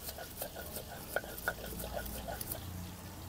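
Green chili peppers being ground on a stone for a Bangladeshi bean mash, giving scraping, knocking grinding strokes in an uneven rhythm at close range and moderate loudness.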